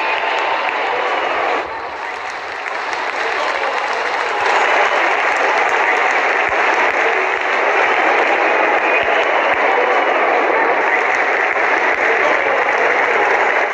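Stadium crowd at a day/night Test cricket match in Bangladesh, cheering and applauding loudly and continuously after a boundary, a broad roar that swells and holds throughout.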